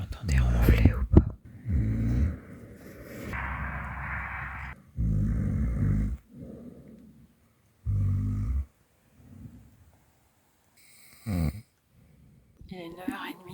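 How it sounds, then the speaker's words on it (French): A man sleeping in a tent in the Dolomites snores in deep, rasping bursts separated by pauses, loud and close, with some low murmuring between snores. "Vous l'entendez ronfler ou pas?"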